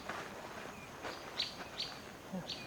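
Several birds chirp and call in a dry African wilderness after the season's first rain, short bright tweets scattered over a few seconds against a soft, noisy outdoor background, fairly distant and moderately quiet.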